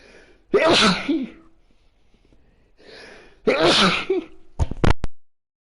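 Two loud sneezes a few seconds apart during a PS4 game livestream, each a sharp burst, followed by a brief clatter as a controller drops.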